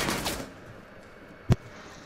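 Video game gunfire crackles in a rapid burst of several close shots, then after a pause a single sharp, loud shot rings out.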